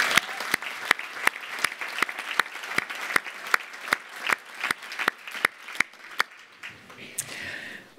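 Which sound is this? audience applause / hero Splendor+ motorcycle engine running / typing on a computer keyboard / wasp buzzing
audience applause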